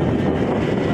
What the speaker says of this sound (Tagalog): So medyo malakas ang hangin